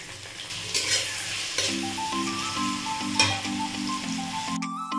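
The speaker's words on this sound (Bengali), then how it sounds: "এটা হালকা একটু নাড়াচাড়া করে নেব। এবার টমেটো আর পেঁয়াজ কুচিটাও দিয়ে দিচ্ছি।" Chopped garlic, ginger, tomato and onion frying in a pan for chicken bharta, a steady hot sizzle with scraping stirs throughout and a few sharper clatters of the spoon, close and fairly loud with no talking.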